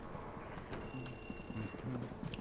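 A telephone rings in the video game Luigi's Mansion, a thin high electronic trill lasting about a second, faint over murky background music and ambience.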